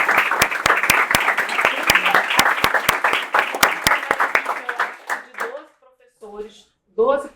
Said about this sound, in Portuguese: eu queria que vocês batessem uma salva de palmas para